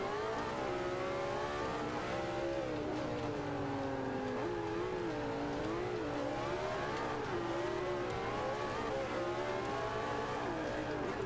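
Lamborghini Aventador racing engine in Forza Motorsport 5 on the Nordschleife, a high wailing engine whose pitch rises and falls with acceleration and shifts, continuous and fairly faint.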